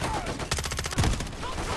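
A sniper rifle shot in Modern Warfare III rings out amid a dense burst of rapid gunfire and impacts, with a heavy low thump near the middle, all packed into under two seconds.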